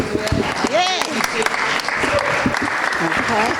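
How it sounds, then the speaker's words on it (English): A crowd at a holiday community gathering applauds for the chef and his crew, with cheering voices and someone speaking loudly over the clapping. "we also want to have a round of applause for our chef, Michael Kane, and his crew"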